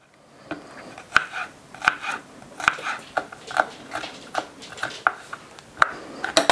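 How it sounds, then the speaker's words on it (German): Garlic being finely chopped with a knife on a board, a series of sharp, evenly spaced taps close by, about two each second, with no talking. "Jetzt werde ich den Knoblauch fein hacken."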